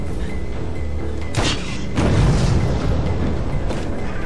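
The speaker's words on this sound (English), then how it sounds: "I see the gas tank explosion." A gas tank blows up in the action game Wanted: Weapons of Fate, a loud booming blast with a sharp onset followed by a second heavy rumbling burst and lingering debris noise.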